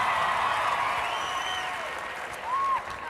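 Studio audience applause and cheering at a televised NRL Footy Show taping in 2008, a dense steady roar of clapping with a few whistles rising over it, holding loud throughout.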